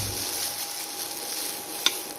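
Noodles frying in a wok while chopsticks loosen them for soy sauce chow mein, a steady soft sizzle and hiss throughout with one brief sharp tap near the end, close and without talk.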